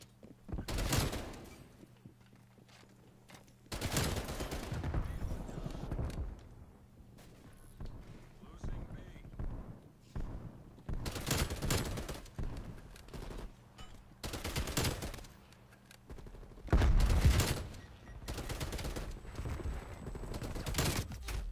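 Gunfire in Call of Duty: Cold War, with several separate bursts of automatic fire spaced out over the stretch and quieter moments between them, partly under talk.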